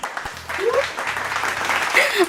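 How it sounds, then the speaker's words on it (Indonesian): An audience at a campus talk event applauds steadily for a couple of seconds, with talk and a whoop or two heard over the clapping. "Tepuk tangan semuanya."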